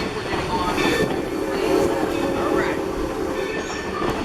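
Passenger coaches of the Essex steam train roll along the railroad, a steady loud rumble with wheel clatter and faint squeal, heard from inside the car, with light voices.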